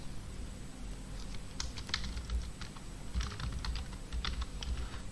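Typing on a computer keyboard: quick irregular clusters of light key clicks, close and clear over a low steady hum, with brief pauses between bursts.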